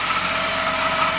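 A restored Suzuki car engine runs at a steady idle after restoration, a continuous even hum with a bright whirring tone, close and loud, with no one talking.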